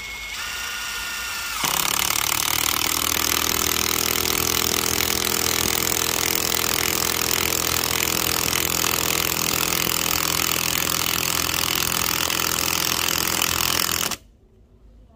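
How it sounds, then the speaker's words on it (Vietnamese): DCA 298 electric screwdriver driving a wood screw into solid wood, a loud, steady high-pitched motor whir with grinding that starts after a short lead-in, runs for about twelve seconds, then cuts off abruptly. "Em sẽ trực tiếp test trên cái gỗ đặc này cho các bác cùng xem này. Trên con chuyên vít của DCA các bác nhá."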